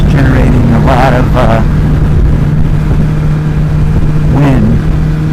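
A steady engine drone hums close by throughout, with a constant low tone, while wind noise and a few voice-like bursts sit over it.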